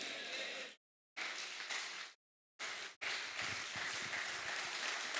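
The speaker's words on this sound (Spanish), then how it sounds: "Ese aplauso es para Él" A church congregation applauds during a sermon, a close, rough rush of clapping cut by two brief silent gaps before it resumes and carries on steadily.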